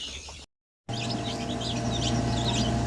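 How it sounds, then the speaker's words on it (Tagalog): Newly hatched purebred Basilan chicks chirp inside an incubator, a busy overlapping chorus of high, close peeps over a steady machine hum, briefly cut by a moment of silence near the start. "So ito po yung bagong sisiw natin, no, sa ating incubator"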